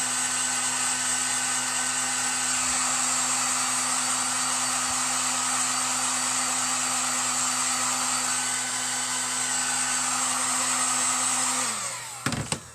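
A heat gun softening hot glue on wood blows with a steady, close-up whine and rushing airflow for about twelve seconds, then cuts off with a few brief clatters.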